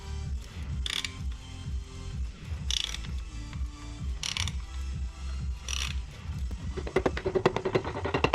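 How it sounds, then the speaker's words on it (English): A ring compressor is fitted over a piston for a 318 engine, giving soft metallic clicks and a few sharper ratcheting bursts close by, ending in a quick run of rapid clicks, with no talking. "Get the ring compressor on."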